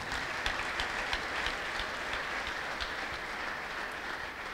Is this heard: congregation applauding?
yes